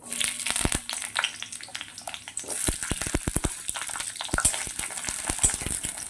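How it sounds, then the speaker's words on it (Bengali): Sweet potato pieces frying in hot mustard oil give a bubbling sizzle, broken by many sharp close clicks and scrapes of a spatula against the pan, fairly quiet and with no talk. "রাঙা আলুটা একটু ভেজে নেব"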